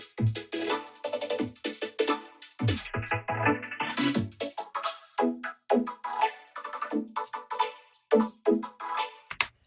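A vocoded synthesizer carries the rhythm of a drum loop, giving a choppy, buzzy, robotic texture of pulsing chords and percussive hits, with a brief filtered dip partway through and no speech.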